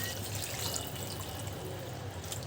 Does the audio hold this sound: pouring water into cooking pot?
yes